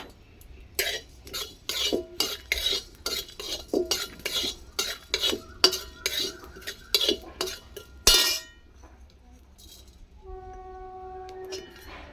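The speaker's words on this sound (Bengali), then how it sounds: "জিরা আমি ভেজে নিচ্ছি আর সঙ্গে একটা শুকনো লঙ্কা আর একটু নুন" Cumin, a dried chilli and salt are dry-roasted in a pan, stirred with a utensil in quick rhythmic scrapes and clinks that stop partway, followed by quieter background with a faint tone.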